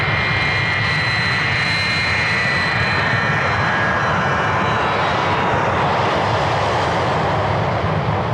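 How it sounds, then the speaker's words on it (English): Airliner engines roar steadily during takeoff, a loud, continuous broadband rumble with a high whine on top, close and unbroken for the whole stretch. "We shall be taking off, so please tighten up the back of your seats and fasten your seatbelts."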